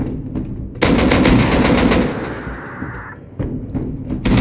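Gunfire rings out during an oil rig raid in the video game Rust: a loud, rapid automatic burst lasting over a second, fading into echo, followed by a couple of sharp single shots.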